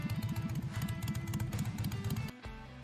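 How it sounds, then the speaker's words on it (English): A V-twin motorcycle engine rumbles nearby in a rapid, uneven loping pulse. The rumble holds for about two seconds, then drops abruptly into a quieter, smoother tone. "Two cylinders shaped like a V delivering that unmistakable rumble"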